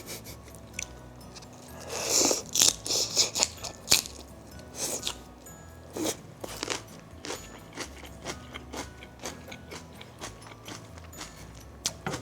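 Close, crunchy chewing of a mouthful of pork with salted bok choy and julienned radish kimchi, a burst of loud crisp bites early on followed by steadier, softer chewing with no talk.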